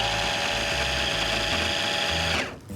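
A blender whirs steadily as it blitzes coarse greens before the yogurt goes in. The motor drone is loud and close, then cuts off abruptly near the end.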